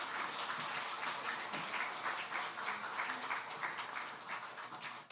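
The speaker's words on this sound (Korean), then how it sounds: "박수로 격려해 주십시오." Church congregation applauding during a Sunday service after a deacon appointment at a Korean Holiness church, steady dense clapping filling the whole stretch at moderate level with no talk over it.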